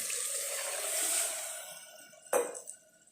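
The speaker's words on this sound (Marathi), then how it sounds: "त्यानंतर पाणी टाकूया" Water is poured into a cooking pot of mixed toor, masoor and moong dal, a soft hissing trickle followed by a brief louder splash near the end, close by.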